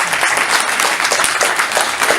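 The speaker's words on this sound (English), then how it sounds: "So a round of applause for that." A short burst of applause from a small crowd, clapping steadily and fairly close, lasting a couple of seconds.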